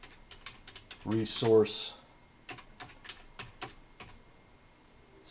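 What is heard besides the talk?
typing on a computer keyboard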